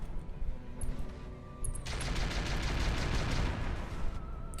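Mortar fire in the mech strategy game Roguetech: a sustained rumbling barrage of booming blasts and crackling impacts that swells after a quieter start and holds, with no talking.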